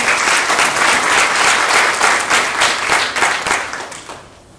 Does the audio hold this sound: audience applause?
yes